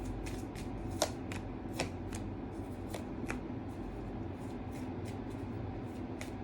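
Tarot cards being shuffled close by, a quiet, brisk run of repeated soft riffling clicks and flicks across several seconds, with no talking.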